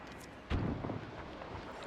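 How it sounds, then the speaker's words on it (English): Gas shells fired by artillery in the WW1 strategy game Between Empires, a single deep boom near the middle followed by a rumbling tail under a steady battle-noise bed. "I will aid the Norwegians by firing gas on the British."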